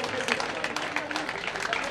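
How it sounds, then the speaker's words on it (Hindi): A scattered crowd at a cricket festival presentation ceremony claps lightly and steadily, with voices and announcing mixed in above the applause. "दो चार तालियां बजा दीजिए"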